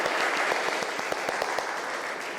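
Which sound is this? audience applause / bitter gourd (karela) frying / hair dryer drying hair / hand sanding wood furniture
audience applause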